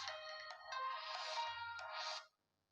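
A phone ringtone plays a bright electronic melody continuously for about two seconds, then cuts off abruptly into silence.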